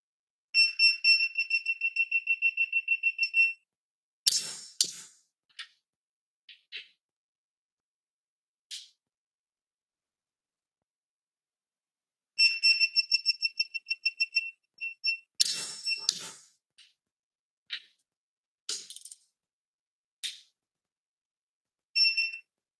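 A torque wrench beeps while wheel lug nuts are tightened during a tire and rim installation: fast runs of high electronic beeps, then a final beep when the torque setting is reached, alongside scattered metallic clicks and taps.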